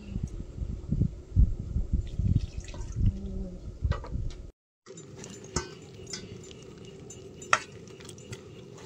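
Cracked wood apple pulp is mixed with water in a bowl by hand, giving soft wet squelches, sloshes and drips, close and uneven, with a brief pause midway and clearer splashy stirring after.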